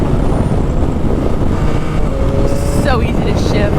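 A Yamaha MT-09 SP motorcycle is ridden with heavy wind rush over a steady engine drone, close and loud throughout.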